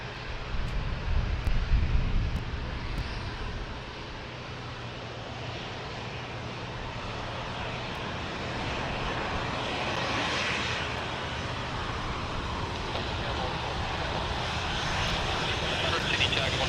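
Jetstar 401 airliner coming in to land on runway 16 left at Sydney Airport, its engines a broad distant roar that swells gradually, with radio voices talking over it.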